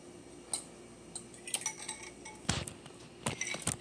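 A fork clinks and scrapes against a dish while food is mixed together, giving a few light, irregular taps and chinks spaced over a few seconds, close by with no talking.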